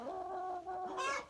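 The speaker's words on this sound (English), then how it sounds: "these chickens will not leave me alone" A chicken clucking close by on a goat farm, a short run of throaty, rising clucks, fairly faint and heard alone.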